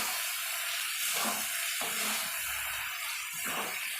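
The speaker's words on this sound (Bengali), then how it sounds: "আলুগুলো দিয়েও আমি আবার নাড়তে থাকবো।" Fried potatoes being stirred into a sizzling chicken curry in a pan, giving a steady close frying hiss with soft stirring scrapes throughout.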